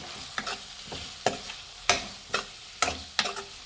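A spoon scrapes and clatters against a pan at irregular intervals, mixing coriander powder and garam masala into mutton liver as it fries for a military hotel style pepper fry, with a soft sizzle underneath.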